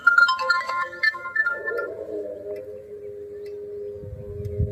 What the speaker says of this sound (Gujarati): ડોમરાજી નો ફોન